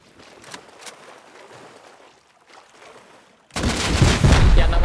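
Loud, dense machine gun fire suddenly erupts in a video game online raid and keeps going after a few seconds of quiet ambience.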